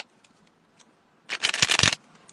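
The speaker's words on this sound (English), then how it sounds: "One more shuffle for them." A deck of cards is shuffled in one quick riffle lasting about a second, crisp and close, after a near-silent pause with no talking.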